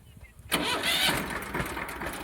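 A tractor engine cranks and fires after a brief quiet, then settles into a loud, steady running rumble close by.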